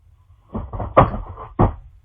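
A large box falls to the floor of a storeroom, giving a close series of muffled thumps and knocks over about a second, with two sharper impacts.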